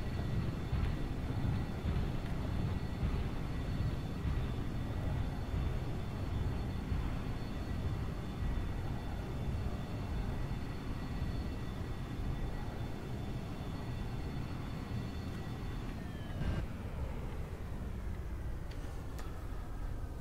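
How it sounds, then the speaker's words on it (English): A heavy airliner at 638,000 pounds gross weight touches down hard, with a sustained low engine and airframe roar and rumble, a steady high whine that drops away near the end, and faint rattling throughout. "it's a very hard landing"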